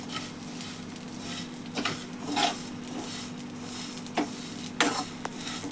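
Vermicelli (semiya) being stirred in a little oil in a pan, a steady soft sizzle with scraping and clinking of the spoon against the metal in irregular strokes, close up and without talk.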